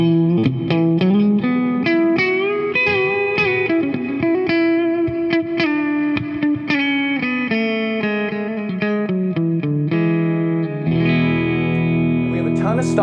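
An electric guitar through a Kemper PowerHead profiler with a delay effect plays a melodic line with lingering repeats trailing behind each note, ending on a sustained chord.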